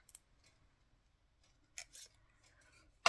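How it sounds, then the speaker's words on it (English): Soft, quiet snips of scissors cutting a paper speech bubble for cardmaking, a few separate cuts spaced out, with a crisp louder snip at the end. "I love these scissors."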